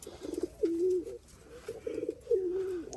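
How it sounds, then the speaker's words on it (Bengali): An old pigeon about eight or nine years of age coos twice in a low rolling, burbling call, close and clear against a quiet background. "দেখেন পুরাতন কবুতর দেখে কিন্তু বোঝা যায়"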